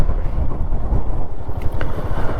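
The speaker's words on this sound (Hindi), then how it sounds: "इतनी बर्फीली हवा चल रही है" Icy wind blows hard across a microphone at Kunzum Pass in Spiti, producing a constant low, buffeting rumble with gusty fluctuations. The wind is loud and close for the whole stretch, and no one speaks.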